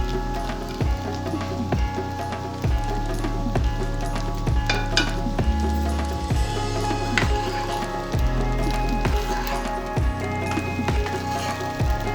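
Cut idli pieces fry in a pan with a loud, continuous close sizzle and crackle, with repeated scraping stirs of a utensil running through it.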